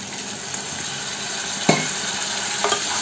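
Mustard and poppy seed paste fries in a pan with a splash of water, giving a steady close sizzle with scraping stirs and a single sharp utensil clink.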